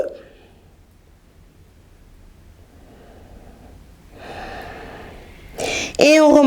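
Slow, soft breathing during a yoga exercise, faint inhales and exhales over a quiet room, building toward louder audible breaths near the end.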